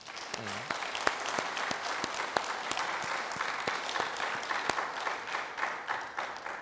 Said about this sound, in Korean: 우리 한번 박수로 정말